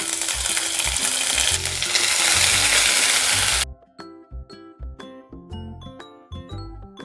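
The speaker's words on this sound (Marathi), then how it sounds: "मसाल्याला तेल सुटेपर्यंत आपल्याला भाजून घ्यायचा आहे" Masala with cumin and garlic paste frying in hot oil, a loud close sizzle for several seconds, then quieter intermittent scraping and clinking of a spatula stirring in the pan.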